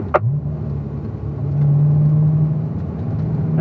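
A Corvette engine rumbles close by on a race track, dropping down to third gear, its tone climbing into a steady, loud drone with no voices over it.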